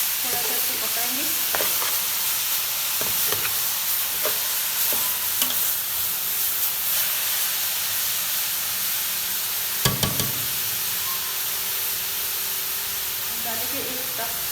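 Carrot halwa cooking in a pan with a steady sizzle and hiss, broken by scattered scrapes and clicks of stirring and a sharper knock near the middle; no talk.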